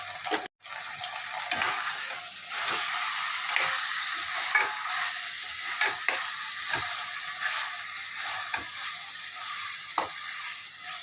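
A spoon scrapes and stirs through mutton curry with drumsticks frying in a pan after chili powder goes in, with a steady loud sizzle and regular scraping strokes close by.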